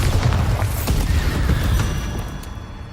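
Bombarda blasting spell detonating in the Hogwarts Legacy video game, a loud, dense low rumble sustained through the whole moment, with rough crackling debris above it and a sharp hit near the middle, no talking.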